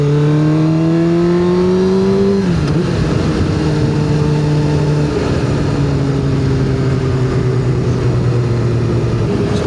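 A Suzuki GSX-R 750 K4 motorcycle ridden at night on the road toward Brisbane, its engine droning loud and close with a steady tone that drops sharply at a gear change and then holds again.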